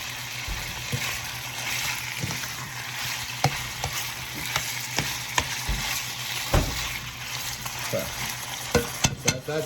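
Ground beef and pork in roughly equal parts brown in a hot pan for a sauerkraut soup, a continuous close sizzle broken by repeated scraping and stirring knocks from a utensil, no speech.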